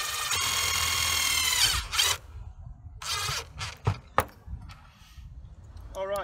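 A power drill drives screws into the side of a solar panel mount on a sheet metal roof, with a long whining run followed by several shorter bursts and sharp taps, loud and close.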